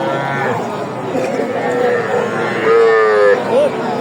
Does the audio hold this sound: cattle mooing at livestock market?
yes